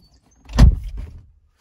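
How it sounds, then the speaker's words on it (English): A car door on a 2020 Volkswagen Golf 8 opens with a single short, solid clunk followed by a brief soft tail, close by and otherwise quiet around it. "we kind of open the doors"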